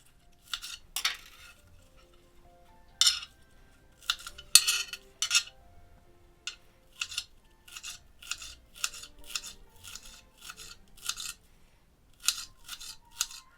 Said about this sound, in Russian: лук нужно хорошенько промыть и нарезать мелко